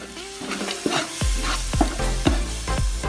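Tamarind water hits hot masala for a dried fish biryani and sets off a loud, close sizzle, followed by several sharp stirring scrapes in a row.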